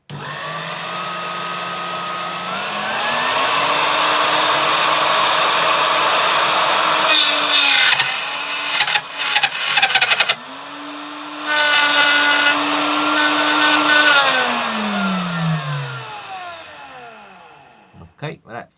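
A rotary burr held in a collet and spun by a power tool cuts aluminium with oil applied. The tool whines up to a loud, high, sustained pitch, chatters and skips in the middle, then spins up again and winds down.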